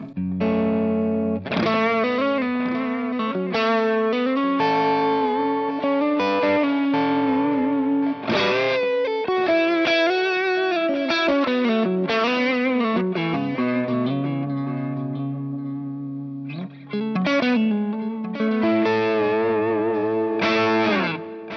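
Overdriven electric guitar on the neck single-coil pickup through a Tubescreamer into a Dr Z Kemper profile plays a melodic phrase with sustained, gritty notes and bends, a smooth crunchy tone with chorus-like shimmer, loud and alone.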